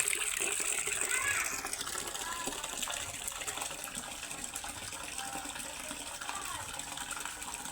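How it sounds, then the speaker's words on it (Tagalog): Water being poured in a goat-keeping setting while mixing molasses and vitamins for goats, a continuous gushing fill sound that stays steady and moderately faint throughout. "Nalagyan natin ng tubig."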